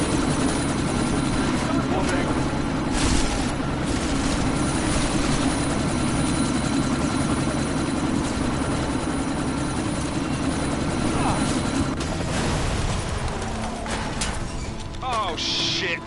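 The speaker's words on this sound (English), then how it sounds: "That chopper's about to take off!" A video game helicopter's rotor drones loud and steady throughout, a continuous thrumming roar with voices talking over it.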